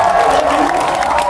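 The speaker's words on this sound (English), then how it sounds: "Can we give them a big round of applause?" Loud, close audience applause mixes with cheering and whoops at a Marvel fan event, a dense roar of clapping and excited voices from a crowd.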